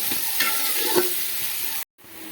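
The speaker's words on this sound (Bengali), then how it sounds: "পেঁয়াজটাকে মিডিয়াম ফ্লেমে রেখে ভেজে নেব গোল্ডেন করে ভেজে নেব" Onions fry in a pan on a medium flame for mutton biryani, a close, steady hiss of sizzling oil with stirring scrapes, then a brief cut to quieter frying.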